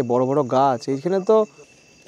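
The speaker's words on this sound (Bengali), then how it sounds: "চারিদিকে ঝিঝি পোকা ডাকছে" Crickets chirp in a deep forest at Buxa, a thin, steady insect trill running faintly through the whole stretch beneath someone speaking close by.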